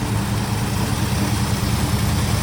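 A very rusty Chevrolet Nova's engine running at a steady, fast idle, a continuous even rumble close by with no voices.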